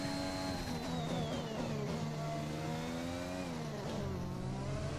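An F1 2021 race car engine in the PS4 game revs steadily, its high whining pitch sweeping up and down as it accelerates and shifts, loud and continuous throughout with no talking.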